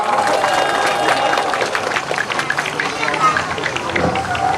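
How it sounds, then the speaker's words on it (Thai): A crowd at a Nakhon Sawan boat race applauds the Khun Nan longboat team from Nan province, a broad continuous wash of clapping and cheering that holds steady throughout, mixed with background crowd noise and some voices. "ปรบมือให้กับขุนน่านหน่อยครับ"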